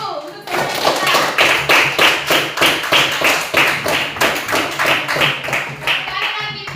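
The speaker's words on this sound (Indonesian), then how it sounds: "Tepuk tangan dulu untuk saudara kita." A classroom of students claps in unison for a classmate, each clap sharp and evenly spaced. The rhythm is steady and close, and voices can be heard faintly underneath.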